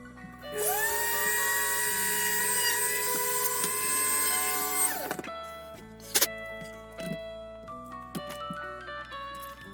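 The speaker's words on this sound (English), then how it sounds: "right about here is where I'm going to drill the hole" A small drill bores a hole into a British Airways 747 scale model, a steady high-pitched whine running for about five seconds, then short bursts and trailing tool noises close to the microphone.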